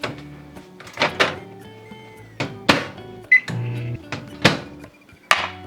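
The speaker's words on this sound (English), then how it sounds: "First thing I'm going to do is melt this butter in the microwave." Microwave oven melting butter for keto sheet pancakes: a few scattered door thunks and clunks around a short electronic beep over a low steady hum, fairly close, with no talking.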